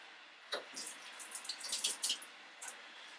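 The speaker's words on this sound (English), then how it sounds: "we're going to take it over to the sink and give it a little rinse in some water" Tap water runs into a kitchen sink as a peeled hard-boiled egg is rinsed, giving a steady splashing stream with a few louder gushes and spatters, close by and with no talking.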